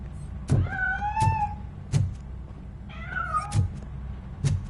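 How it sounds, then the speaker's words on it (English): A cat in a video game meows in several drawn-out, rising calls, interleaved with short sharp thumps, loud and close with no talk. "That cat must be hiding inside."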